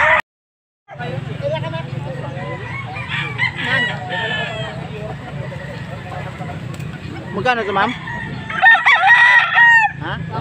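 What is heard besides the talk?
chickens clucking and a rooster crowing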